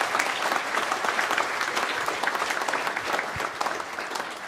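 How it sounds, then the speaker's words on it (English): Steady, full applause from an audience at an evening program of thanks to donors, with dense clapping continuing at an even level throughout. "One round of applause, please."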